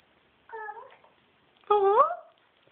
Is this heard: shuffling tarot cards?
no